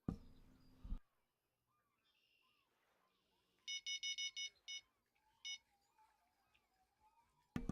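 A phone ringtone chirps as a short run of rapid, evenly spaced electronic beeps, quiet and isolated, with a faint warbling tone trailing after.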